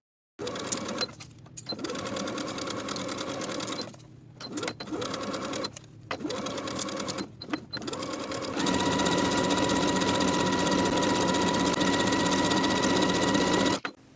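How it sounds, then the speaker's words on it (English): Sewing a cuff into the armhole of a colorblock top, a sewing machine hums loudly in several runs broken by brief pauses, then settles into one long continuous stretch, close and alone. "Sew the cuff into the armhole with a 1/2 inch seam allowance and finish the raw edges together."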